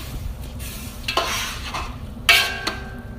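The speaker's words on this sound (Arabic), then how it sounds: "الحين احركه اوازن الماي عدل" Rice and water stirred in a cooking pot while making meat machboos, soft swishing scrapes with a couple of sharper clinks of the spoon against the pot, close and alone.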